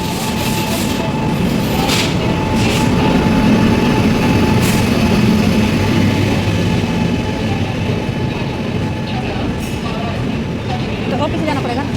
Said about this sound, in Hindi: अब यहाँ पे ट्रेन आ गई है